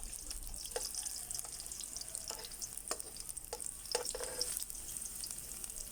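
Onion and garlic sauté in a pan for pinakbet, giving a soft steady sizzle close by with several sharp scrapes and clicks from a spatula stirring.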